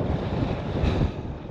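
Strong wind buffeting the microphone on the summit of Great Gable, a mountain about 899 meters high, as a steady, loud roaring rumble with gusty swells and no voices.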